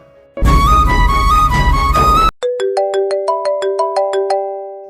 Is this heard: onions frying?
no